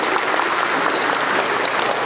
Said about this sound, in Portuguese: Uma salva de palmas para o David.